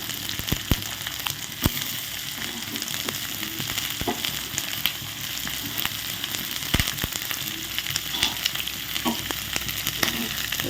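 Small onions and green chillies fry in a pan with a steady, close sizzle, punctuated by sharp crackles and pops throughout.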